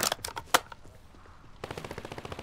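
An SMG fires in Warzone 3 in rapid bursts: a tight string of sharp shots, a short pause, then another fast burst at close range.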